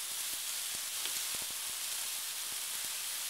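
Onions and garlic sizzle in a pan as they break down and caramelize, a steady bright hiss with scattered small pops and crackles, close and uninterrupted.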